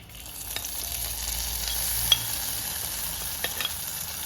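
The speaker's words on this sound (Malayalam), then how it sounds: "അപ്പം നമ്മുടെ താളിപ്പ് കറിയിലേക്ക് ഒഴിച്ചു കൊടുക്കാം" Hot tempering poured into a Kerala-style curry, a soft hiss and sizzle that swells then settles, with a couple of sharp clinks of a spoon or pan against the pot; no talking.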